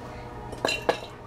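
A metal spoon clinks twice against a glass while fishing frozen coffee ice cubes out of cold brew concentrate, two short bright taps close by over a quiet background.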